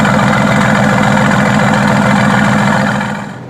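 Mercedes-AMG GT S sports car exhaust idling, a steady, loud, close throbbing burble with an even low pulse that holds for about three seconds, then fades slightly at the end.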